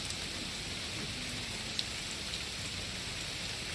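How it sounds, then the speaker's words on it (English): Rain falls on tarps in a video game, a steady dense patter of drops at moderate volume, evenly spread with no break and one small sharp tick. "they are affected by the rain. As the rain hits them"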